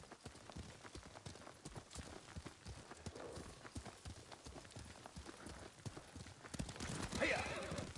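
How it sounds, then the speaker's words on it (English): A horse gallops in Ghost of Tsushima with fast, rhythmic hoofbeats pounding steadily throughout and a whinny near the end, under quiet in-game speech. "Lord Sakai taught me to ride a horse"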